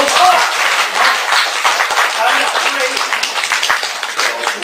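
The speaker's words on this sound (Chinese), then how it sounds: "只要我师傅坐着说，多说一点，底下就得鼓掌" An audience in a Deyun Club storytelling hall in Beijing applauds a solo comic storyteller, steady dense clapping that fades gradually over a few seconds.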